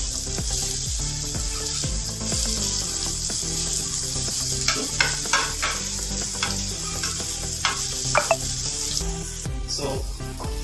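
Slices of elephant yam fry on a hot tawa in a steady, close sizzle and crackle. Scattered louder pops and scrapes come through as the slices are stirred and flipped.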